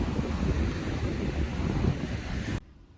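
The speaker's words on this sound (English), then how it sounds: "Just looking at the way that my tent is being blown away sort of by the wind" Strong wind buffets the microphone at a beach campsite, a loud, steady roar with surf-like rushing that cuts off abruptly near the end, leaving a faint hiss.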